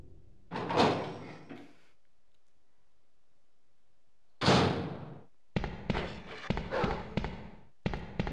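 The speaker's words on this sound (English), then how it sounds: "noise, because their dogs are caged" Caged dogs in Resident Evil 2 rattle and bang against metal cages in loud, clattering bursts separated by quiet gaps, with a final run of rapid, repeated rattles.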